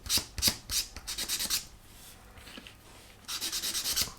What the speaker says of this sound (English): very, very light grit, and smooth that out on both sides